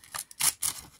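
Crafter scissors cut through paper in a few quick, crisp snips, heard close up and fairly quiet, with no voices.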